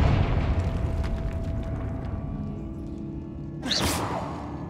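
A Confringo fire spell blast in Hogwarts Legacy, heard as one sharp bright burst near the end with a brief whooshing flare. It rises over a steady low rumbling game ambience, with no voices.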